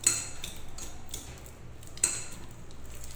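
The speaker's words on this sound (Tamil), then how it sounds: "அதை நல்லா கொஞ்சம் பீட் பண்ணிக்கலாம்." Butter being beaten in a wide bowl for eggless cake batter, a soft repeated scraping with two sharper clinks of utensil against the bowl.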